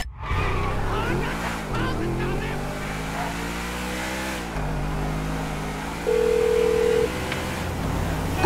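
A phone call rings through on speakerphone in the GTA video game, with a tone heard over a continuous car engine drone and street traffic.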